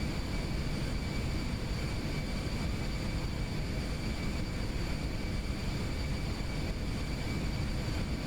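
An Aerobask Eclipse 550 NG small jet in X-Plane 11 makes its takeoff roll, a steady, dense engine roar with a thin, constant high whine, continuous and without talk.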